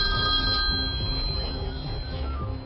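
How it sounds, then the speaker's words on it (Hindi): A telephone ringing at a police station early in the morning, a steady electronic ring that continues throughout with no speech. "कुछ देर घंटी बजने के बाद फोन उठाया।"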